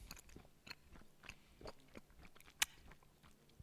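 Someone chews tough skin on roasted, rubbed meat, giving faint, close, irregular bites and crunchy mastication sounds with one sharper crack near the middle, no talking.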